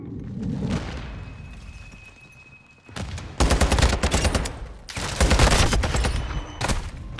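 A grenade blast and heavy automatic gunfire in Call of Duty Modern Warfare II on the Museum map: a muffled boom and lull, then loud, dense close volleys of shots in two long bursts.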